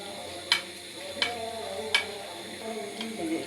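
Lachha paratha fries in oil in a kadai, a low steady sizzle under four evenly spaced sharp clicks of a utensil against the pan.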